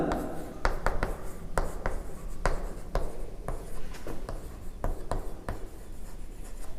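Chalk scratches and taps across a board in steady, fairly loud strokes during a fluid mechanics lesson, a run of sharp clicks over a continuous rubbing hiss, with no talking.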